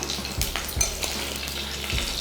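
Hot oil crackles and sizzles steadily as cumin seeds fry, with a few sharp pops and a spoon clinking against the pan now and then.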